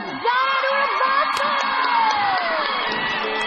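An awards show crowd cheers loudly and steadily, with shouts and whoops rising over sustained applause and a swelling musical tone, dense and continuous throughout.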